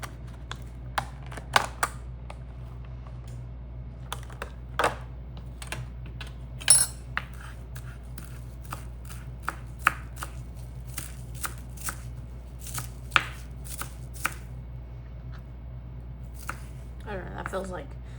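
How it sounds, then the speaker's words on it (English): Knife chopping fresh dill on a cutting board, scattered sharp taps and knocks in irregular bursts throughout, close, over a low steady background hum. "We are going to chop some fresh dill."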